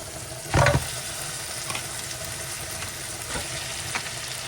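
Ground beef cooks in a pot for one-pot creamy penne, a steady low sizzle running throughout with a louder scrape of stirring near the start and a few softer stirring knocks later.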